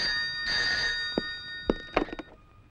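A telephone bell rings in a tense film scene, a steady electronic trill with clear tones that cuts off, followed by a few sharp knocks and clicks close by; no voices.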